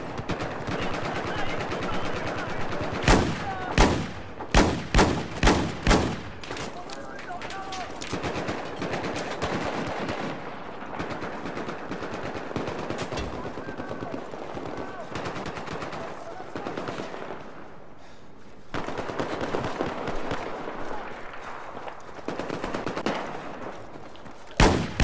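DMR rifle fire in Battlefield 4 on the Dragon Valley map during a Gunmaster match: loud, sharp shots in quick bursts with short gaps, then denser sustained gunfire and explosions, ending in a few closing cracks.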